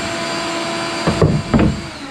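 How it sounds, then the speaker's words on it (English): A shop vacuum runs steadily in a boat-building workshop where coosa board is being cut and fiberglassed, then drops out partway through, followed by a couple of short knocks or bumps. "you can unplug the vacuum"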